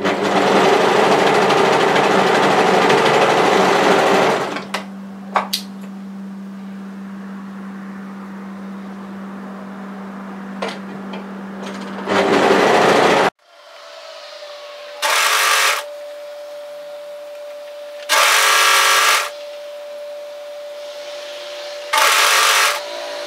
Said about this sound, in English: we're going to overlock this tie through to where the notch is